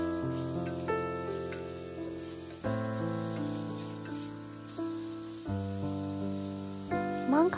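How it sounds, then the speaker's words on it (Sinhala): Chicken pieces frying in butter with garlic in a pot, a steady soft sizzle close by, with light clinks and stirring over it and no talking. "සුදු ලුණු ටිකක් බටර් එකේ හැට මෙහාට ටෙම්පරාදු වෙන්න ඇරලා මම මේ විදිහට කපාගත්ත චිකන් ටික එකතු කරගන්නවා"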